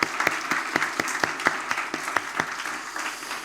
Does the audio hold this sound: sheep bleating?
no